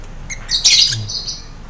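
Small birds at a bird farm give several short, bright chirps and tweets close by, with a brief burst of overlapping calls in the middle over quiet background noise.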